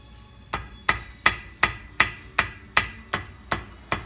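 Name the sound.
hammer lightly tapping along the edge of an engine gasket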